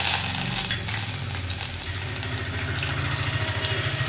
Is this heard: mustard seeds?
yes